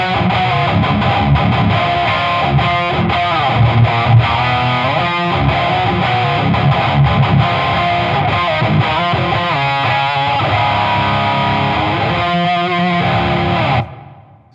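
Distorted electric guitar lick, loud and sustained with effects-laden, ethereal tone, running steadily for about fourteen seconds before cutting off abruptly.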